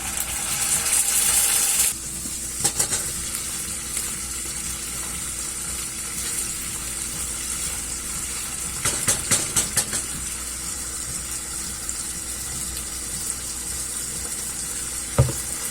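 Garlic and Thai green curry paste sizzle steadily in hot frying oil, a constant close hiss broken by occasional scraping and stirring clatters, with no voices.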